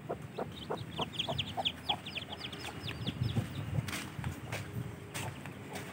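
An angry mother hen clucks and scolds near chicks hatched the night before, with repeated sharp calls and thin chick peeps over a steady outdoor background.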